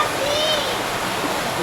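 Water rushes steadily inside a cave, a loud continuous broadband wash. A voice is faintly present alongside it.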